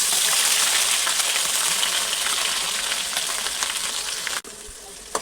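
Masala paste sizzles in a pan with mustard and cumin seeds for a meal maker curry. A dense, close hiss runs throughout with faint stirring scrapes, then ends in a brief knock. Nobody speaks.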